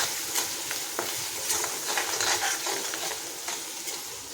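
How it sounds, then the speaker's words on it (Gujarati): Garam masala and coriander-cumin powder fry in a pan for a Gujarati potato curry, a steady sizzle broken by repeated spoon stirs and scrapes close by, with no talk. "બધું સારી રીતે આપણે હલાવી લઈશું।"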